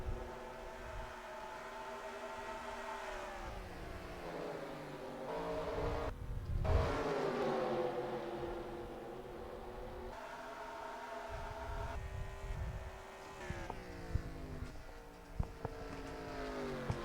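NASCAR race car engines at North Wilkesboro in the NR2003 racing game, a continuous layered drone of several cars with rising and falling pitch as they pass and shift, moderately distant, with no talk.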